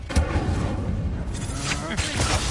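An Incendio fire spell cast during combat in Hogwarts Legacy, a dense roaring, booming blast of flame and impacts filling the whole stretch loudly, with voices speaking over the top of it.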